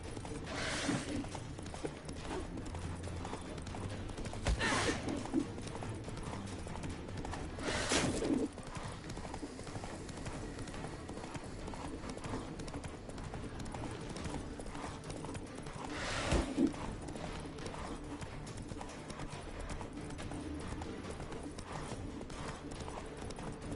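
A horse gallops in a video game, rhythmic hoofbeats clip-clopping steadily throughout, with a few louder thumps and faint bird calls in the background.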